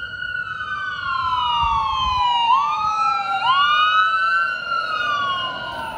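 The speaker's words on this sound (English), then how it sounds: "There's a ambulance coming down the street right now." An ambulance siren wails loud and close as it passes down a street in Boyertown, Pennsylvania, its rising and falling tones dropping in pitch as it goes by, with traffic rumbling underneath.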